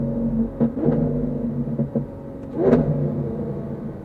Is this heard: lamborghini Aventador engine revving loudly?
yes